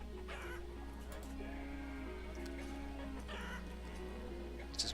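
Chickens cluck in a farming village in the city-builder game Banished, steady bird calls layered over a continuous low ambient hum and game background sounds, with no voices.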